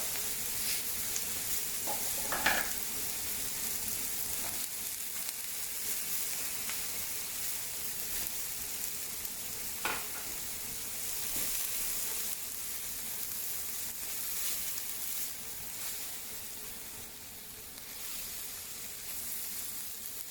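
Peas hitting a generous layer of olive oil in a paella pan, giving a steady close sizzle and frying hiss with a few brief stirring clinks, no voices.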